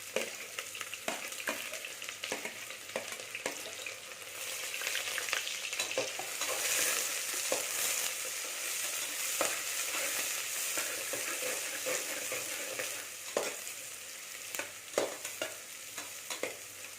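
Steady sizzling of green chilies frying in hot oil for mutton chops gravy, with repeated scraping and clinking as they are stirred in a pan, continuous throughout.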